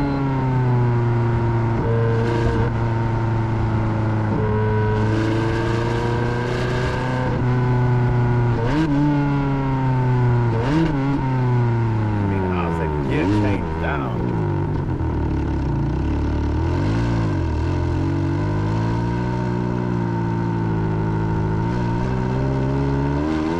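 A sports car developed from a Challenge race car drives steadily, its engine droning with smooth pitch swings as it revs up and down through gears, loud and close throughout with no talk.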